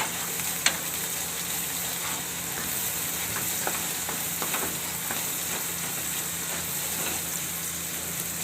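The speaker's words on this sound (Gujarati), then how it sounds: "તો આપણે આને ઘડીક વાર સડવા દેવું તેલમાં" Chopped spring onions with asafoetida and chillies fry steadily in hot oil, a constant close crackling sizzle with a few sharper pops and faint stirring clicks, no voices.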